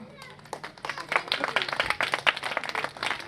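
Audience at a retirement function clapping, starting sparse and building into a denser round of claps, close and moderately loud, with voices talking underneath.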